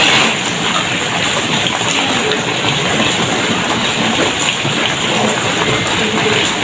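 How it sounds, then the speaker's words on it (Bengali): Heavy rain pours down steadily in a dense, continuous hiss that holds loud and even throughout, with no voices. "প্রচণ্ড বৃষ্টি"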